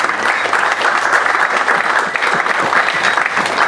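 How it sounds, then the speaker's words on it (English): Audience applause at an over-50s international masters cricket award ceremony: steady, dense clapping from a large crowd, loud and continuous throughout with no talk over it. "Give yourself another round of applause, please."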